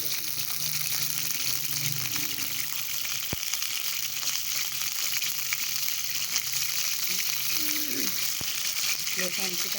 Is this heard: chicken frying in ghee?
yes